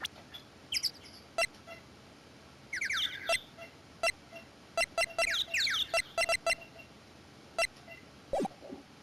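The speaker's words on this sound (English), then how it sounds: "Oh, parrot in there." A parrot in the Phoenix Wright Ace Attorney game gives shrill squawks and chirps, scattered among sharp clicking blips and short bursts over a quiet background.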